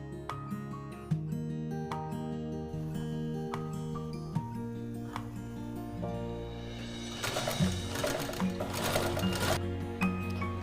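A sewing machine runs steadily, stitching a zipper strip and lining together for a purse made from a sari, its rapid mechanical chatter continuous and close, with a brief busier burst near the end.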